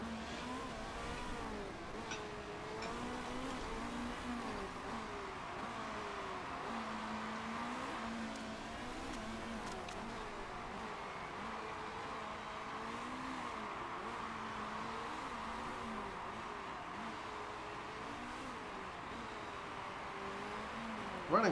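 A race car's engine drones and revs through a long stretch of an endurance racing game, with rising and falling pitch sweeps as the car shifts and accelerates. The sound is moderately loud and continuous, with faint tire noise now and then.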